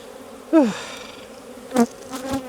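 A few bees buzz past close by in short bursts, one louder pass followed by two fainter ones against a quiet background.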